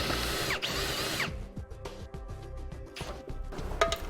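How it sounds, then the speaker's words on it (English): A drill enlarging a pre-existing pilot hole with a 15/32 bit during an air compressor setup on a 2011 Ford F-250, whirring briefly, then giving way to a series of sharp ratcheting clicks and short mechanical bursts, close and fairly quiet. "we're going to use a pre-existing hole as a pilot hole and enlarge it. Now the bit size we're using is a 15/32."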